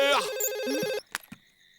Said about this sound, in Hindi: ਕਿਸੇ ਦਾ ਫੋਨ ਆਇਆ ਹੈ